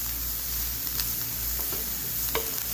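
Spices for chana chaat fry lightly in a pan, giving a continuous close sizzle under a low hum, with a couple of soft stirring scrapes.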